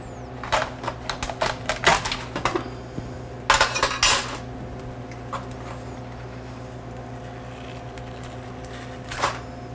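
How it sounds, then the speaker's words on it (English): Two metal spoons are wedged into a sea urchin shell and pried to pop it open, giving a run of close, sharp clinks and scrapes, then a louder cracking clatter, followed by quiet and one last click. "a technique is using two spoons that we kind of wedge inside"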